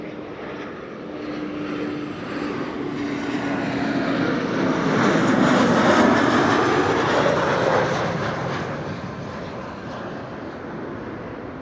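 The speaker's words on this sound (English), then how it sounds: "KLM flight 1704 arriving from Brussels with the Sprouts. Embraer 190." A KLM Embraer 190 jet arriving at Amsterdam Schiphol Airport roars loud and broad, its engine noise swelling to a peak mid-pass and then slowly fading as it goes by.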